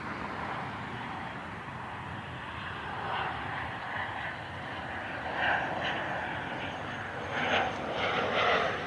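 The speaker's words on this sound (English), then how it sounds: "this is the Baker Aviation Citation X out of Wilmington" A Citation X business jet operated by Baker Aviation passes overhead at an airport, a steady broad engine roar that swells slightly toward the end, with no talk over it.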